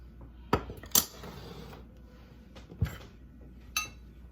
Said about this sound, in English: Give these a little gentle toss because they're very soft